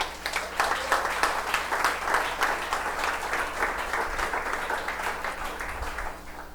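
Sustained applause from a church congregation, dense clapping that holds steady and loud for several seconds before easing slightly at the end.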